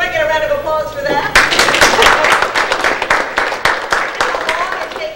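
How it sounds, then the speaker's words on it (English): After someone speaks briefly, a small audience breaks into applause, a few seconds of fairly close, uneven clapping at moderate loudness. "Do I get a round of applause for that?"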